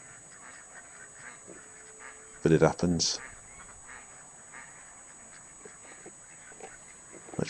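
Ducks quack loudly nearby in one short cluster of calls on a farm at night during air-rifle rat shooting, with quiet talk and low background hum.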